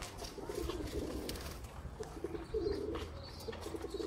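Chuha breed pigeons cooing in a loft, with soft repeated coos over a steady background of other birds chirping and low ambient noise.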